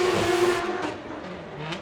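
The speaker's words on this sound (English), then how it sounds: "What can he do, Eddie, as he fires his car sideways to the wall?" A drift car slides sideways toward the wall at a British Drift Championship 2018 competition round, its engine roaring steadily with broad tire and exhaust noise at moderate distance, and no voices over it.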